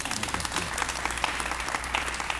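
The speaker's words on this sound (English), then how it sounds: "That's where you clap." Steady applause from an arena crowd at a naming press conference, dense continuous clapping throughout at a moderate distance with no talk over it.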